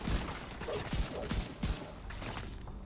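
Gunfire in The Division 2, a run of close, punchy shots spaced unevenly over a steady bed of game noise and mechanical clatter.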